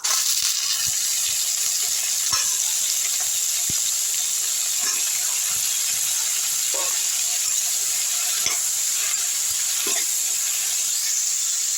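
Chayote and drumstick pieces sautéing in a pan, a constant close sizzle broken by scattered clicks and scrapes of a spoon stirring the vegetables.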